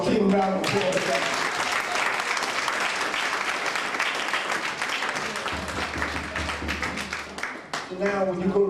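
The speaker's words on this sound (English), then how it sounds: "Give Brother O'Keefe a round of applause" A lecture audience in Atlanta breaks into a round of applause, loud sustained clapping under a short stretch of speech at the start and end.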